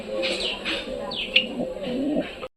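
Pigeons coo in soft, low repeated phrases with a few chirps as they settle down to feed, close by, steady throughout and ending abruptly.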